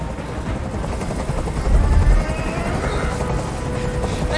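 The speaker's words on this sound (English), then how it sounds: "I can't stand that noise anymore. Tell that helicopter to get out of here." Helicopter hovering overhead in the video game Detroit: Become Human, a loud continuous low rotor thump and engine roar that swells briefly midway and stays steady throughout.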